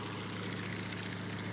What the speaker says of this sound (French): L'hélice du Stearman tourne tellement vite que le bout des pales peut atteindre la vitesse du son.